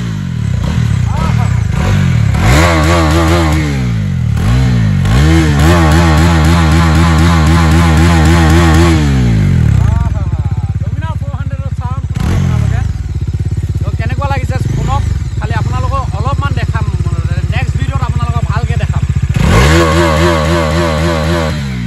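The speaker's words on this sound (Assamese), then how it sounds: "ডমিনাৰ 400 এতিয়া মাতটো যে বম মাখন হৈ আছে" A Bajaj Dominar 400 motorcycle engine revs hard in repeated loud bursts, climbing and falling in pitch between a lumpy idle, close and dominant throughout.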